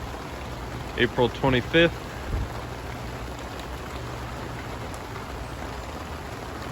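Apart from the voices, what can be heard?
warm spring rain falling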